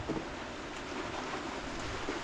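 Rain falls steadily as an even, constant hiss at an abandoned house, with no voices and no breaks.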